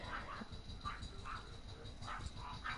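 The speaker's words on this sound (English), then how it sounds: "my dogs are barking. Two little Pomeranians." Two little Pomeranian dogs yip and bark in short bursts in a living room, faint and somewhat distant, the high barks repeating irregularly over low background rumble.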